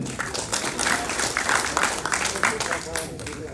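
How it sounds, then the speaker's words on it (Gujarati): Audience applause fills a gathering at the Hindu Temple of Lubbock, a steady wash of many hands clapping throughout with a voice speaking over it. "એક વાર તાળીઓ ચોધાવો"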